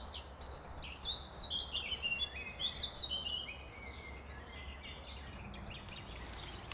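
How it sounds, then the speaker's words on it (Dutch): Several birds chirp and sing nearby, overlapping high, quick phrases over a soft steady background hiss, in a wetland area with flowing streams in the Achterhoek, Netherlands. "Stromende beekjes, zingende vogels."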